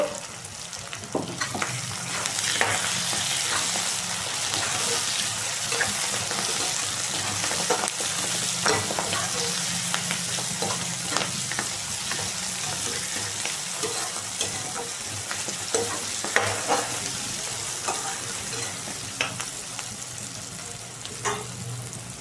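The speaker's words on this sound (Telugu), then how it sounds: "ఉల్లిపాయలు వేగినాయి ఫ్రెండ్స్ టమాటా ముక్కల్ని కొంచెం కరివేపాకుని వేసుకుందాము" Onions, tomato pieces and curry leaves frying together in a pan make a loud, continuous sizzle with frequent crackling spits and stirring scrapes, close by and without speech.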